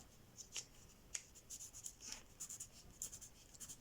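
Paper being folded and creased into a John Montroll origami swordfish, with faint, close rustles and light crisp taps at irregular intervals in a quiet room.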